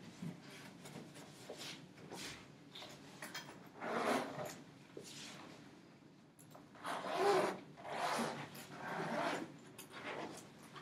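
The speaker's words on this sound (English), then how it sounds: "Helps when the zippers actually work." A zipper is pulled open on an awkward, chunky cello case in several rasping bursts of varying length, quiet and close, with no voices.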